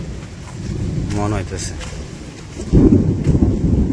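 Thunder rumbles low and steady over a Bangladeshi village in the rainy season as more rain threatens, swelling louder toward the end while a person talks over it.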